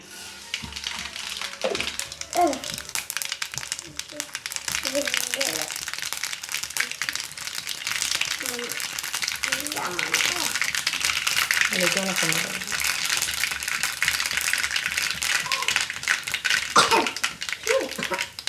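Mustard seeds crackle and pop in hot oil for a Kerala-style lemon pickle, a steady dense spattering hiss with frequent small pops. Someone talks intermittently over it.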